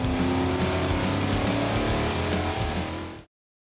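A 410 cubic inch EFI stack-injected stroker LS V8 roars loud and close in a dyno cell, holding a steady heavy drone for about three seconds before cutting off abruptly to silence.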